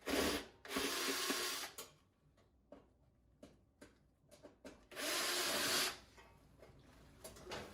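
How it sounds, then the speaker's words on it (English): Screws being undone from the burner cover of a range oven during a dual-burner repair. Two longer rasping bursts of the tool frame a run of small metallic ticks and clicks, heard up close and without speech. "We need to open these screws."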